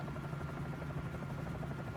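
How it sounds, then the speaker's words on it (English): A Bell 47 J-2 helicopter in Microsoft Flight Simulator hums with a low, steady rotor and engine drone, a constant buzzing tone throughout the brief stretch, quiet and unbroken with no talk. "if you're flying a helicopter in Microsoft Flight Simulator"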